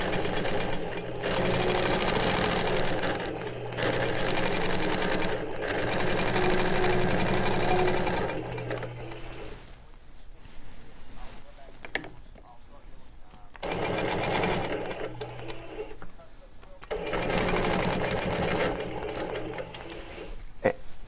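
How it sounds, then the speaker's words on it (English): An Innova longarm quilting machine whirs in steady bursts of rapid mechanical stitching, pausing briefly between runs, with a quiet hum during the gaps. "And what I'm doing too right now is I'm stitching."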